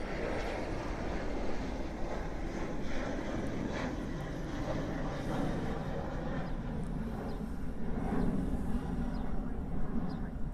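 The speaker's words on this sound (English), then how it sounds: "That 717 there is heading off to Hilo." A Boeing 717 airliner departs Honolulu for Hilo, a broad distant jet roar that holds steady and swells slightly toward the end.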